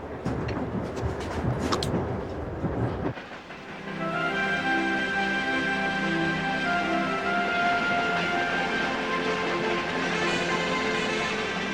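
Trans-Siberian Railroad train running, a busy wash of rail noise for the first few seconds before a steady, loud rumble with sustained tonal whine and hiss takes over.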